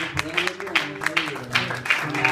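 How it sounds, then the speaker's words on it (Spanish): Steady rhythmic clapping from a church congregation applauding during a sermon, with voices talking and murmuring underneath. "Denle un aplauso más"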